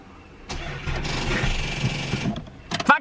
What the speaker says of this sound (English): Now I want to show you this fucking car start up.